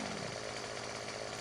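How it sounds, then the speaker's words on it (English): A chainsaw cutting a tree in the farming game Farming Simulator 17, its engine droning steadily and loudly throughout, with no break and no voices. "And we will cut it with a chainsaw."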